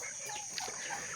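Laying hens cluck softly in a short burst at a small farm with a newly built hut, steady background hiss and a faint flutter underneath.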